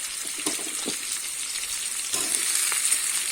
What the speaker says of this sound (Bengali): দিয়ে কিন্তু কুমড়ো গাজর আবারও ভালো করে ভেজে নেব।